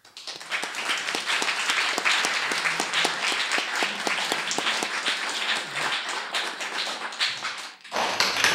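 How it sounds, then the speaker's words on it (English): An audience applauds the treasurer at a Florida Tech student government election debate, a sustained crowd of clapping hands with sharp individual claps, fading briefly near the end before a final burst. "so give him a round of applause."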